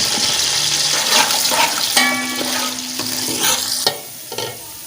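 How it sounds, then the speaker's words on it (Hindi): Onions hiss and sizzle in hot ghee in a pot for beef kabab pulao, a loud continuous fry with stirring scrapes and a background tone, easing off near the end. "सबसे पहले हम घी डाल चुके हैं, प्याज डाल रहे हैं, इनको कर लेते हैं ब्राउन।"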